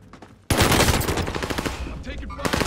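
Gunfire in Call of Duty: Modern Warfare: after a brief quiet lead-in, sudden loud continuous automatic fire dominates, with a dip before the firing resumes at the end.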